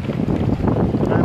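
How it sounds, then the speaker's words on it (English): Steady, loud wind buffeting the microphone in Florence, Italy, a continuous low roar with gusty swells and no talking. "It's so windy,"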